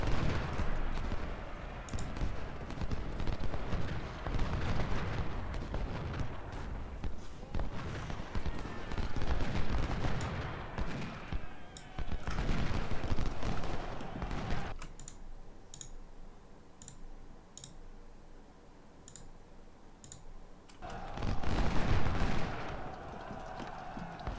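Ultimate General Civil War battle at Stones River, with continuous crackling musket volleys and booming artillery mixed with keyboard and mouse clicks, then a quieter stretch of scattered sharp reports before the firing swells again.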